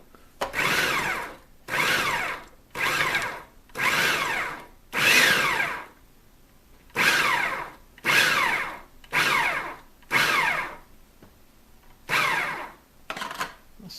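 A Hamilton Beach 70670 Chef Prep 525-watt food processor chops food in about ten short pulses, each a loud whirring burst of roughly a second separated by brief pauses, close to the microphone.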